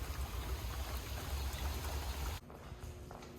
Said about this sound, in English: It's raining again, just when the pavement was just starting to dry.